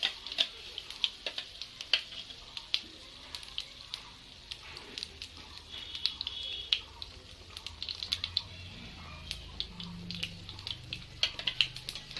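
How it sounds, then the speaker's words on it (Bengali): Masala sizzling in hot oil for mutton biryani, with steady crackle and frequent sharp ticks and spatters throughout, close and fairly quiet, no talking. "এবার ভালো করে কষিয়ে নেব মশলাটা।"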